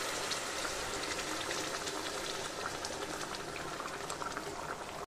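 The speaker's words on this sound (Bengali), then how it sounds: "এবার গরম জলটা আমি এর মধ্যে দিয়ে দিচ্ছি" Hot water poured into a pan of braised chicken, bubbling and hissing in a steady, dense wash that continues close and fairly loud throughout, with no talking.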